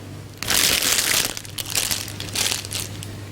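A plastic packet of burger buns is opened in a kitchen, with loud crinkling in several bursts, close up and with no talk.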